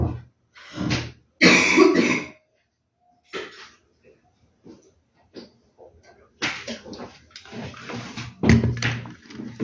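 A woman coughs in several hoarse bursts, near and fairly loud, with quiet gaps and faint rustling between the fits.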